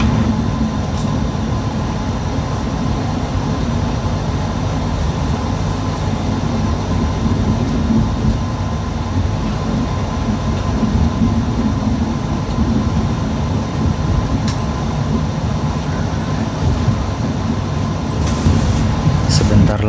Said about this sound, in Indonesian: Oh, ada KRL masuk jalur 5.